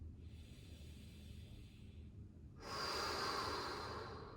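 Deep breathing during a yin yoga session for hips and lower back: a slow, soft inhale followed by a louder, longer airy exhale, close and alone without speech.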